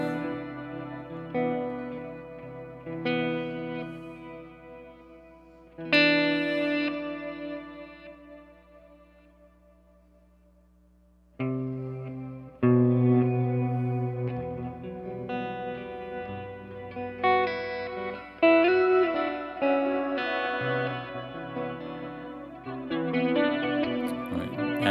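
Electric guitar drenched in effects, with swelling reversed-sounding notes and a shimmering, high, reverberant halo; phrases pause briefly, then continue with chords and melodic lines.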